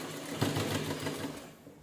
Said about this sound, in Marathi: त्याच्याने शिलाई करून घेऊया आपण